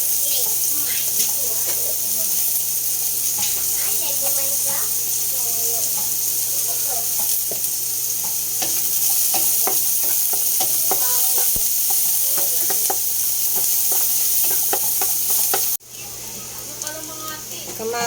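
Ginger, onion and garlic hit hot oil in a pan, sizzling steadily and loud throughout, with a brief dip near the end; voices talk over the frying.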